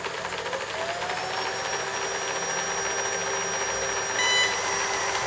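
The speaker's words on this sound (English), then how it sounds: "this is the sound it makes when the vacuum is turned on" A JNC tiny robot vacuum cleaner switched on, running with a steady soft whine and faint hum that holds evenly throughout, close by, with a brief electronic beep-like tone near the end and no talking.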